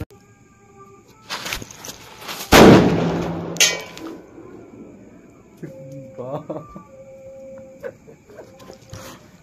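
A sutli bomb, a string-wrapped firecracker, bursts with one sharp, loud bang and a decaying rumble after a spell of crackling, followed by quieter clanks and noises.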